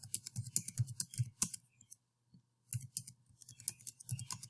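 Rapid clicking of buttons on a statistics calculator as data values are keyed in, in steady bursts of close, crisp presses with a brief quiet pause in the middle.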